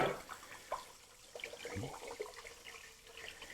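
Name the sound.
tap water filling a pot for pasta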